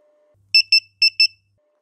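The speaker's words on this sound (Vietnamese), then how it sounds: "bây giờ mình bấm một lần nữa để cho nó hẹn 8 giờ thì nó kêu dài hơn" A smart fan controller set to an 8-hour timer gives four short, clear electronic beeps in two quick pairs, close and crisp against near silence.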